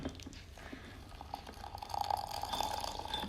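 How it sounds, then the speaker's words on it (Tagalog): Hot water pouring into a glass, a steady liquid trickle that builds in the second half and stays close and moderately quiet with no talk over it. "Then, let's put hot water."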